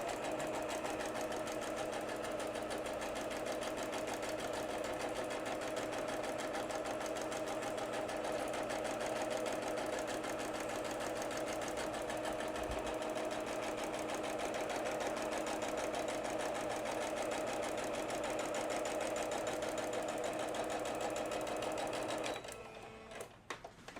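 Sewing machine running steadily as it stitches a small-dog belly band, a continuous close, even mechanical whir and rapid needle rhythm lasting nearly the whole stretch before stopping abruptly near the end.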